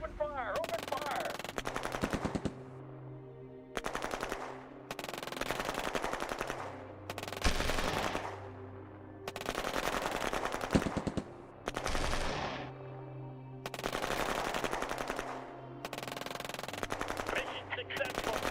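Video game machine-gun fire rattles in repeated long bursts separated by short pauses, loud and dense throughout a lengthy stretch of combat.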